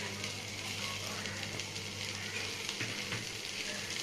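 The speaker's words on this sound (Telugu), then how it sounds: "ముందు ప్రాన్స్ని మనం మగ్గించుకుందాం." Prawns and onions cooking in a pan with no oil give a steady, soft sizzle and crackle, with occasional stirring scrapes.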